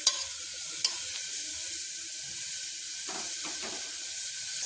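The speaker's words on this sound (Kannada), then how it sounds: "ಇವಾಗ ಫ್ರೈ ಮಾಡೋಣ ಅಂತ ಚೆನ್ನಾಗಿ ಫ್ರೈ ಮಾಡಬೇಕು ನೋಡಿ" Ingredients for foxtail millet pulao frying in a pan, a steady close sizzle and hiss throughout with a few soft scraping stirs, no talk.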